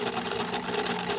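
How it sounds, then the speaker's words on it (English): A sewing machine stitches close to the edge of fabric for a bib and burp cloth, running in a fast, steady mechanical whir with a rapid needle rhythm, loud and close, with no talking. "I'm just going to sew close to the edge all the way around"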